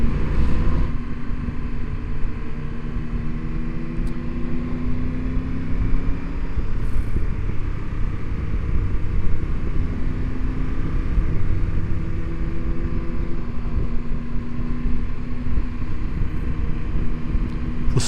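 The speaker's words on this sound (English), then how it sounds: "The sonorous exhaust of the BMW six-cylinder." Steady, continuous engine drone from a BMW six-cylinder motorcycle exhaust while riding an Alpine tour, a low rumbling hum with faint shifting tones, mixed with wind and road noise and sustained throughout.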